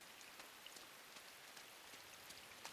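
Steady pouring rain patters across a surface in the dark world of Inside, a dense hiss with scattered louder drop impacts, faint and even throughout with no voices.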